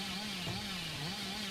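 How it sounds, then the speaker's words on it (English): The Hillbilly's chainsaw sprint in the video game Dead by Daylight: a continuous buzzing motor drone with slight pitch wobbles, steady and moderately quiet, with no talking over it. "Trying to find new and exciting angles to continue the chainsaw sprint."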